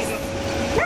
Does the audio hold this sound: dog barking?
yes